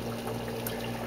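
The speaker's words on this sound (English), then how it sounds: "Now you should be able to hear the bubbles." An algae scrubber run by two Fusion 700 pumps gives off a soft, steady bubbling and trickling over a constant low pump hum, close and unbroken, with no talk.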